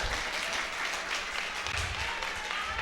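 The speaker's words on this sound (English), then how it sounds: "Yes, you can clap for that" A school gathering audience claps throughout, a steady dense patter of many hands from start to finish with no voices standing out.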